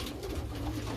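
Racing pigeons in their loft give soft, low, throaty coos close by against a faint room background.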